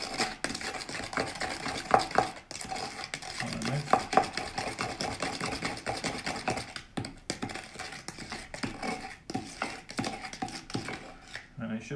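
Spoon clinking and scraping as mug cake batter is stirred in a mug, with irregular repeated taps close by under ongoing talk.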